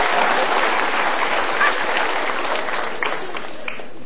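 An audience claps in a dense, steady burst of applause that gradually thins out toward the end.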